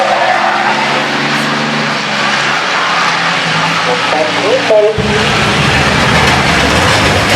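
Race cars launching at the start of a race on a dirt track, a loud roaring engine wash swelling and surging with revving, under an excited crowd-level din.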